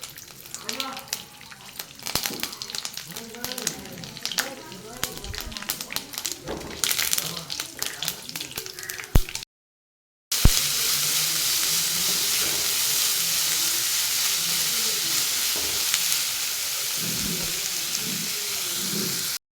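Mustard seeds and curry leaves dropped into hot oil in a pan, first crackling and popping under a speaking voice, then a loud continuous sizzle and hiss after a brief gap.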